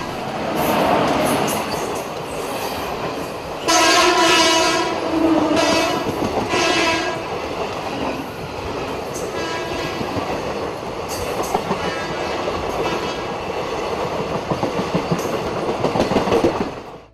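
A train at Secunderabad railway station sounds several loud, sustained horn blasts over the steady rumble and clatter of rolling carriages, close and continuous throughout.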